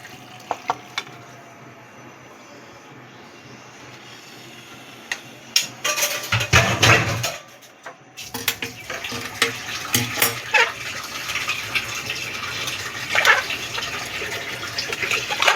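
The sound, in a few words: hot water poured into a pressure cooker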